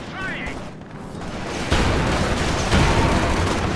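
Incendiary artillery in the Company of Heroes 2 multiplayer game, heard as a dense, rumbling barrage of booms and crackling fire that swells and stays loud throughout.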